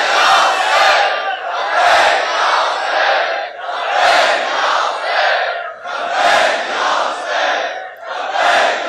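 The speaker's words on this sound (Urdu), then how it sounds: "بھئی اگر نعرہ لگانا ہے تو پھر مل کر کریں، لبیک یا حسین" A large crowd at a Muharram majlis chants the religious slogan Labbaik Ya Hussain in unison, loud rhythmic surges of massed voices repeating about every second, with no single speaker heard over them.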